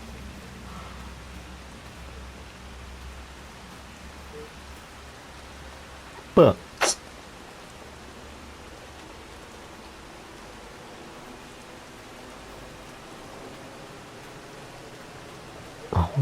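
Steady rain falls across a Farm Sim 25 farm field, a soft continuous wash of noise with a couple of brief louder knocks, while a voice speaks briefly over it.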